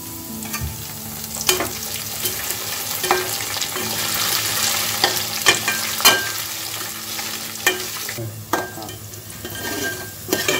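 Jackfruit chilli frying in hot oil with curry leaves, a dense continuous sizzle broken by the scrape and clink of a utensil stirring the pan.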